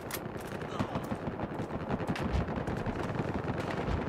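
Gunfire rattles through a Battlefield Hardline multiplayer fight. Continuous bursts and heavy booming layer into a dense, chaotic din at a moderate distance, with no break across the stretch.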